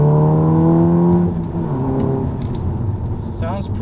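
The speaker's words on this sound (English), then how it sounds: "I'm honestly really happy with the way this exhaust sounds." A VW Golf R (MK7.5) fitted with an APR exhaust and IE downpipe revs with a droning rising tone, then settles lower and rumbles on, with a brief rev blip near the end.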